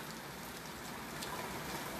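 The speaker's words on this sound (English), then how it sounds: "It's just rain. You know, icy rain." Icy rain or sleet falls steadily outdoors, a continuous even hiss of pattering drops with no pauses, moderately faint.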